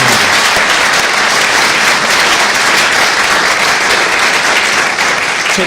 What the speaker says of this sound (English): So one more round of applause for all the volunteers.